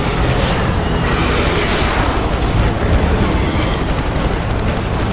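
Missile explosions in the video game Prototype form a dense, continuous roar of overlapping booms and blasts, loud and sustained throughout with no pauses.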